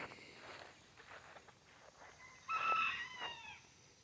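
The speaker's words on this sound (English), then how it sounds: "Chickens are going crazy over there." Chickens cluck and a rooster crows outdoors at a distance, a faint crow rising near the end over soft rustling and footsteps.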